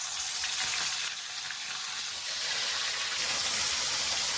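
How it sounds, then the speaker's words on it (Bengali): Fish fries in hot oil in a wok-like kadai, giving a loud, close, unbroken sizzle and crackle that holds steady throughout, with no voices. "এই যে এখানে পড়ে গেল মাছ মাছটা ভাজা হোক"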